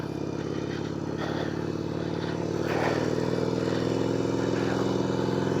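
A beginner motorcycle being ridden, its steady mid-pitched engine drone running continuously and fairly loud, with a slight rise partway through and some road clatter underneath.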